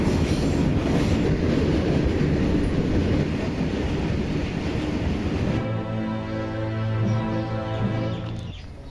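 A train rumbles and clatters loudly through a village railway station, with rolling wheel noise that eases into a lower steady hum near the end.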